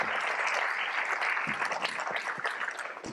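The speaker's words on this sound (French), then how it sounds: "On peut l'applaudir" Applause from a political rally audience welcoming a senator onto the stage, a dense steady wash of many hands clapping at full strength throughout.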